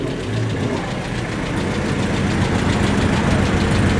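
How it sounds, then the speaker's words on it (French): Classic Volvo T1800E rally car arriving at a retro car event in Charleroi, its engine running steadily at a rough idle and low rumble, close and continuous throughout. "Alors voici la première voiture du rallye qui rentre, qui est une Volvo."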